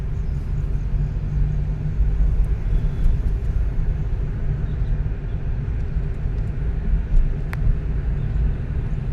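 Driving school car engine in a steady, close rumble as it's pushed under acceleration, a continuous low drone with slight swells and no talking over it.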